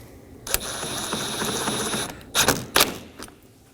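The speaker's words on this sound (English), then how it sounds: "Resecure your 3 10mm top fasteners, starting with the screws on the corners" Three 10mm top fasteners on the front bumper of a 2020s Toyota Corolla being snugged down, a close buzzing tool run followed by two sharp mechanical bursts, loud and alone.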